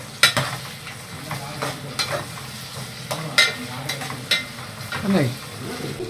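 Chicken liver fries with onions and green chillies in a pan and gets stirred, the spoon scraping in sharp strokes over a low sizzle close by.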